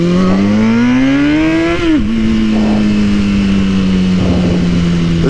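A stunt motorcycle fitted with a stunt sprocket drones loudly and steadily close by, its engine pitch climbing, dipping sharply with a shift, then holding level in second gear.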